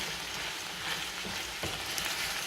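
Mushrooms fry in a pan for chicken marsala with a continuous close, even sizzle and faint stirring. No one speaks.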